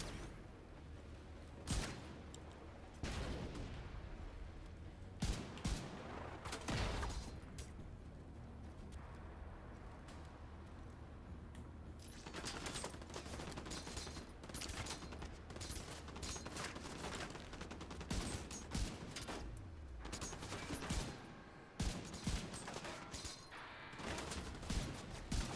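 Rapid gunfire from the shooter game The Division 2, played as a hardcore agent and landing headshots: dense bursts and single sharp shots crack out repeatedly over constant combat noise, loud and close throughout.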